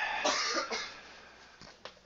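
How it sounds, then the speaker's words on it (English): Several dry coughs sound at a distance, a couple close together near the start and more later, faint and set back in the room. "We still got a lot of coughing going on in the background."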